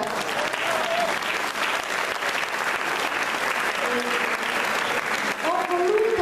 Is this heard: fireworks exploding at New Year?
no